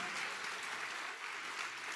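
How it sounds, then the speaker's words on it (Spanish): Church congregation clapping during a sermon, a dense, even patter of many hands filling the space, sustained and moderately loud with no voices over it. "Dale fuerte ese aplauso a Cristo."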